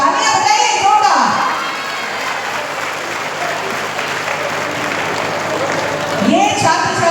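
A large audience claps loudly and steadily at an award ceremony for students, a dense wall of applause running nearly the whole time, with a voice speaking briefly at the start and end.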